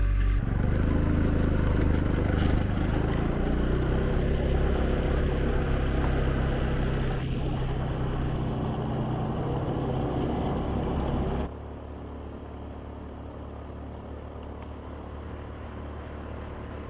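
A motorbike engine roars loudly and steadily as it climbs a hill, mixed with wind buffeting, then drops abruptly to a quieter, lower hum for the last several seconds.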